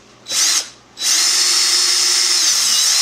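Power drill boring a hole into an Arcade1Up arcade cabinet: a short burst of whining drilling, a brief pause, then a longer sustained high-pitched grinding run, close and loud with no talking.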